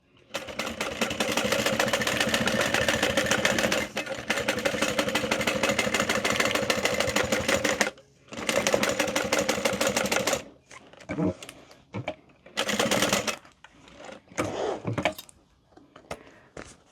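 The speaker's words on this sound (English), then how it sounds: "I am just gonna do the top edge right there and then top stitch" A sewing machine top stitches the top edge of a fabric bowler bag, whirring loudly and steadily up close for about eight seconds, pausing, running again, then breaking into short stop-start bursts.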